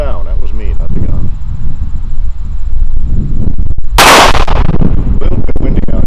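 A single sharp, loud gunshot cracks at an outdoor shooting range on a windy day, fired at a 50-foot target, standing out against steady wind noise and a low background.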